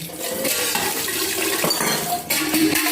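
Tap water runs steadily into a sink while a milk pot is rinsed at home, with a continuous splashing wash and occasional clinks of the pot, close and fairly loud throughout.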